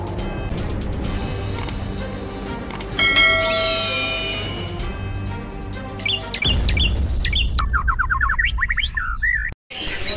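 Caged songbirds at the Pramuka bird market in Matraman, East Jakarta, chirp and whistle in overlapping bright calls, with ringing bell-like tones early and a busier burst of twittering near the end.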